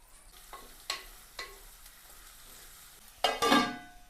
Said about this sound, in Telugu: మనకైతే ఉల్లిగడ్డలు మిరపకాయ అయితే ఫ్రై అయినాయి కదా